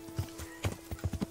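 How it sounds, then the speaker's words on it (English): A horse in Kingdom Come: Deliverance clops a few uneven hoof steps through thick weeds, close and moderately loud, with a steady faint hum underneath. "The horse just can't seem to get through."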